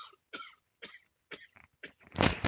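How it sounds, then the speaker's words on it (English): A single sharp cough ends a short burst of quiet throat noises and breaths, close to the microphone and fairly loud against near silence. "Sneak attack cough."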